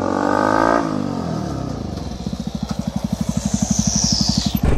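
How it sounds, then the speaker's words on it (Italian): A Yamaha YZF-R125 motorcycle engine starts up and idles with a rapid, pulsing thump, close by and loud, its putter growing steadier toward the end. "Viaggio sulla mia moto"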